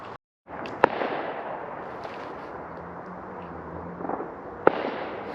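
Bonfire Night fireworks going off outdoors in a Derby park, with two sharp distant bangs standing out over a steady crackling, rumbling background of ongoing explosions.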